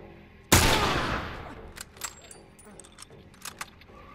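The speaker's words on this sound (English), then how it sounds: "Get my sniper rifle and shoot you." A single sharp, loud sniper rifle shot in The Last of Us cracks out and decays into a long echoing tail, followed by faint scattered clicks and small rattles.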